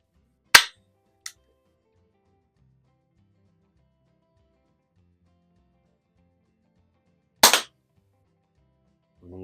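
Older Beeman P17 air pistol fired at a target, two sharp close cracks several seconds apart, each followed by a faint click, with near silence between.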